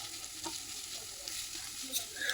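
Onion sautéing in a pan for a tur-bean paratha gives a steady bright sizzle, with soft stirring scrapes over it.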